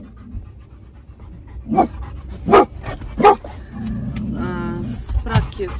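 A dog pants and lets out a few short barks and yips indoors, with people talking nearby throughout.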